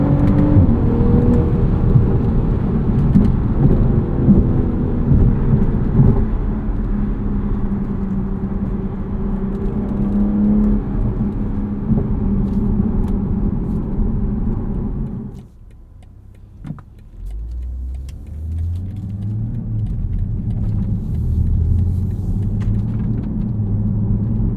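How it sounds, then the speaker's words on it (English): A 2023 BMW Z4 M40i's turbocharged six-cylinder engine drones steadily from inside the cabin under acceleration in comfort mode with sport transmission, a loud, broad rumble that drops off abruptly, then rises again as a lower, rising engine tone. "put the transmission in sport, and hear natural sounds from this turbo 6-cylinder"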